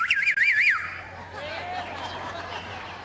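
A man whistles a quick, wavering tune without using his fingers, loud and close over a short opening burst, then fading into a crowd's murmur and distant chatter at a political broadcast event.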